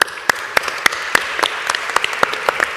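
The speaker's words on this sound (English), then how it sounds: "please join me in applauding our panelists" Small audience applause for panelists at a university conference, with sparse, distinct claps in a loose rhythm, close and moderately loud, lasting only a few seconds.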